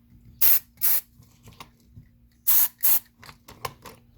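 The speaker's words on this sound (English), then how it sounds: "So this is our deadbolt assembly. Right. So we're going to spray a little bit of lube on that too." Lubricant sprayed from an aerosol can onto a door deadbolt assembly: two short hissing bursts, a pause with faint mechanical clicks, then two more bursts, close and crisp.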